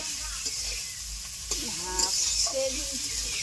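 Leafy greens (shak) frying in a pan, a steady soft sizzle with occasional stirring scrapes, and brief bursts of background voices over it.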